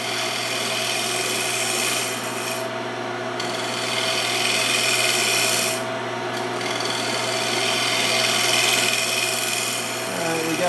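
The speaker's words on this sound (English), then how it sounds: "I like to use my scraper on some of this stuff in kind of a shearing cut." A hand scraper makes a shearing cut on a segmented wooden bowl spinning on a lathe, a steady close rasping hiss under the lathe's motor hum with two brief pauses as the tool lifts off.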